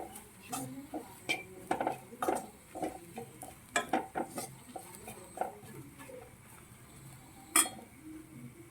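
Grated coconut roasting in a pan for a traditional Kerala koottu curry, a spoon scraping and clinking against the metal in irregular, quiet strokes, close by, with a soft background hiss and occasional sharper taps.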